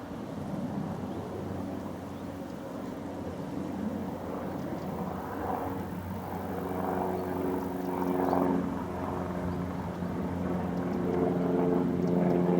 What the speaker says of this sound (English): And another plane.